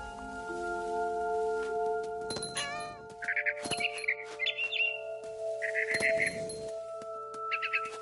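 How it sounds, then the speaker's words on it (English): A barn swallow chirps in the video game What Remains of Edith Finch: several bursts of quick, high twittering calls come in short phrases over a quiet, humming background, clear and close. "Then I heard chirping outside my window. It was a barn swallow going back to her nest."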